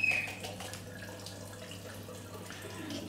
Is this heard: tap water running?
yes